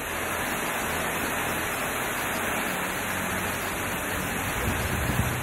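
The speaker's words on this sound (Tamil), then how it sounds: "திருவையாறு சுற்றுவட்டார பகுதிகளில் இடி மின்னலுடன் கனமழை பெய்தது" Heavy rain falling around Thiruvaiyaru during a thunderstorm, a steady dense hiss of downpour throughout with a brief low rumble near the end, no voices.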